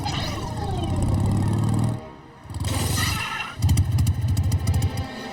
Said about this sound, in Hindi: वो रही मोटरसाइकिल।